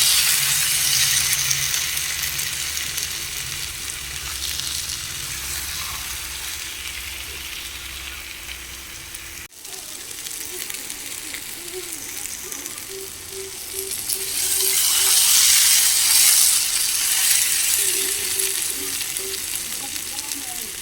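Egg curry (dim kosha) fries on a low gas flame while the spices are stirred. A steady sizzle runs throughout, with scraping stirs and a brief break midway. The frying swells louder toward the end, and no one talks.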